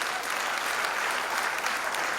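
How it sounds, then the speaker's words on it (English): Steady audience applause at a West African Examinations Council ceremony in Freetown, Sierra Leone, a dense continuous clapping from a large crowd throughout. "Are we clapping for them, please?"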